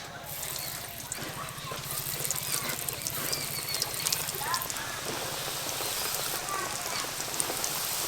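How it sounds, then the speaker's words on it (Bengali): Vegetable chops frying in hot oil, a steady bubbling crackle that runs evenly throughout, with faint speech in the background. "বাকিগুলো আমি ভেজে নেব।"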